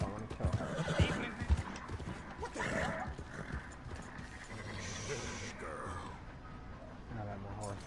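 A horse in Red Dead Redemption 2 whinnies and neighs over clip-clopping hooves, with game sounds and someone talking over it throughout.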